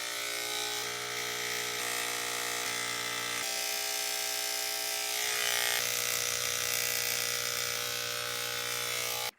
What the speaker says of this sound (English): I've gotta shave the beard.